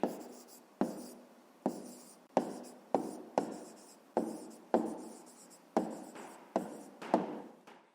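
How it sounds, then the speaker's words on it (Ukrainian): Pen writing an answer by hand on paper during a fifth-grade maths exercise, a quiet series of about a dozen short scratchy strokes at an uneven rhythm, close and alone without talk. "Ну що ж, записуємо тоді відповідь"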